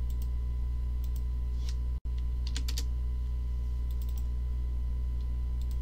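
Computer mouse and keyboard clicks at a desk, a scatter of light sharp clicks in small clusters over a steady electrical hum, close and fairly faint, with a brief dropout partway through and no speech.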